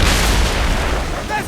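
Ship cannons from a naval battle in Assassin's Creed Rogue roar as a sustained, loud rumbling blast that fades slightly toward the end, with a brief voice cry near the close.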